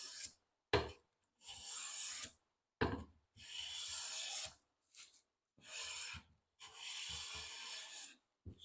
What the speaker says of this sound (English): So I'll come back, take some more shavings down the middle.